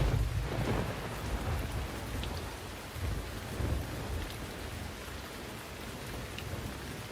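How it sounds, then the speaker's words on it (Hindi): Steady heavy rain pours on surfaces with low rolling thunder rumbling through it, a continuous dense wash of sound with no voices. "बारिश शुरू हो गई है"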